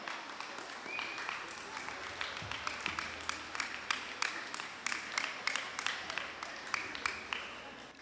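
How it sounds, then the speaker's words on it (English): Modest outdoor applause at an award presentation during the Yap Canoe Festival in 2009. Scattered, steady claps continue for several seconds under low background murmur. "Please come on down and give them a round of applause."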